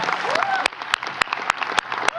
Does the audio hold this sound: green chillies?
no